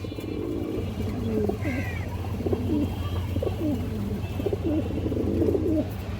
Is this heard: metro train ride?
no